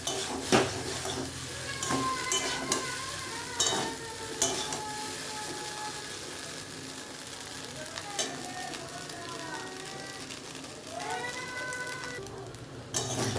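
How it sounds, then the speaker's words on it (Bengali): Homemade pasta with potato and egg sizzles steadily in a pan while a utensil stirs and scrapes. Clanks and knocks against the metal cut in repeatedly over the constant hiss of frying. "ভালো করে ফ্রাই করে নেওয়ার পর মিশিয়ে এবার আমি দেবো সোয়া সস"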